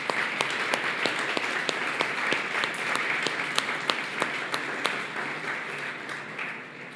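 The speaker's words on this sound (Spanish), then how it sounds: "¿qué tal si levantamos un aplauso grande al nombre del Señor?" A church congregation applauds together in a sustained wash of many hands clapping, steady and fairly loud, tapering slightly toward the end.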